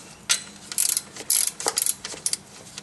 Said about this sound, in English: Let's get a wrench and remove that nut and position that cable out of the way.